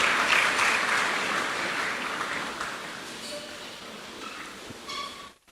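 A church congregation applauds after the Gospel reading, a dense burst of clapping that is loudest at the start and thins gradually before stopping abruptly.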